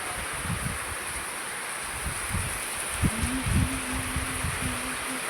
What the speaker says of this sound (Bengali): এখানে মুষলধারে বৃষ্টি হচ্ছে